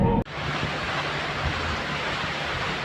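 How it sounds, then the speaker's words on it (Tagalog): Heavy rain pours down at a house in Baras, a loud, dense, continuous hiss that begins after a brief cut, with no talking. "Lakas ng ulan, ate."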